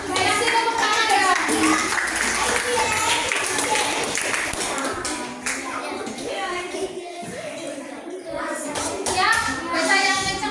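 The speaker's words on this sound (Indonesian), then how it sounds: "Kasih tepuk tangan ya" A classroom of children clapping, mixed with lively kids' chatter and shouting, a busy, continuous rattle of small hands close by that rises and falls across the stretch.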